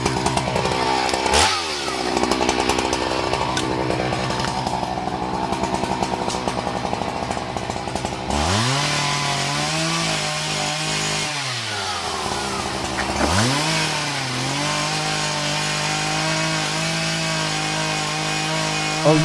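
A chainsaw roars through the wood of a 600-year-old tree, its engine snarling loud and close, dipping and revving again in several cutting passes with short pauses between.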